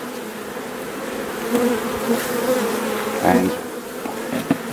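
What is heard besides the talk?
bees buzzing as they are knocked off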